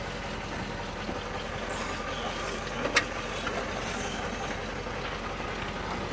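A 1957 GMC truck rolling along at night, its engine and road noise a steady, moderate rumble with faint rattles and a brief clunk midway, no talking.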